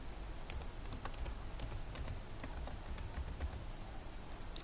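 Email address and password being typed on a computer keyboard for an account login, a quick irregular run of close, light key clicks over a low background hum, with no talking.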